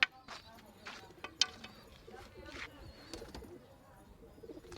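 Soft pigeon coos and scattered chirps sound close by amid faint rustling and a few sharp clicks.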